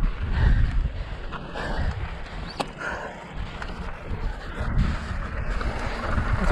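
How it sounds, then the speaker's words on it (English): Strong gusts of wind on a desert mountain bike single track buffet the microphone, a loud, continuous rumbling roar that surges and eases throughout without talking. "That wind adds such a sketch factor right now."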